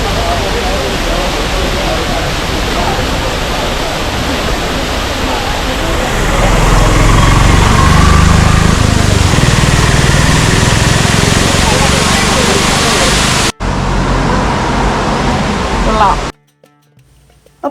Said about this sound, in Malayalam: നമ്മൾ ചീയപ്പാറ വാട്ടർഫോൾസിൻ്റെ അടുത്ത് എത്തിയിരിക്കുകയാണ്